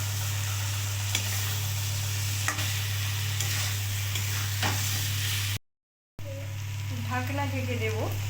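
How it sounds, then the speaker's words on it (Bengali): Chicken and potatoes stir-fried with spices in a pan, a loud steady sizzle with scraping stirs and a constant low hum, then a short break and a voice speaking over the frying. "এবার মাংস, আলু দিয়ে দেব। দিয়ে ভালো করে একসাথে কষিয়ে নেব।"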